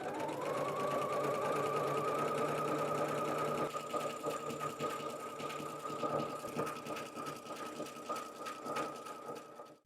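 Sewing machine seaming the edge of a hand-knit 100% non-superwash wool sweater, a rapid continuous stitching chatter that runs steadily, then slows and turns more uneven near the end, close and alone.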